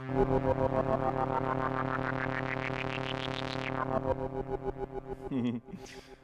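A distorted synthesized tone from an Elektron Digitakt sweeps upward, then breaks into a rapid stuttering, pulsing run like a mocking electronic laugh, ending in a short gritty burst.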